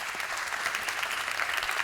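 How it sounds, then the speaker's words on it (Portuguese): An auditorium audience at a conference applauds its guests, dense and steady clapping that fills the hall evenly from start to finish. "Um aplauso para os nossos convidados."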